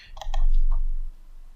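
A computer mouse gives a pair of quick, sharp clicks close up, followed by one softer click, over a low background hum.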